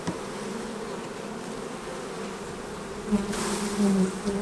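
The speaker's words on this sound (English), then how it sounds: "Get all those bees in there." A steady, dense buzzing of many honey bees at a long hive, close by and continuous, swelling slightly louder toward the end.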